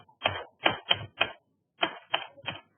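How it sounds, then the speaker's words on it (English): Rough typing on a computer keyboard while entering amounts into form fields, two quick bursts of clacking keystrokes separated by a short pause, close and clear with no talking. "I'm just roughly typing some amount."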